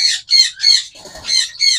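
Caged pet birds at a bird sale squawk in five loud, harsh bursts in quick succession, each call close and shrill, with a brief low rustle between the fourth and fifth.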